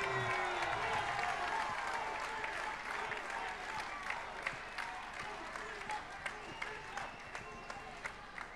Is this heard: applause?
yes